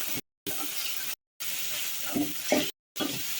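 Prawns sauté with onions in a pan for a brinjal prawn curry, a close, hissing sizzle with stirring scrapes, broken by several short abrupt gaps of silence.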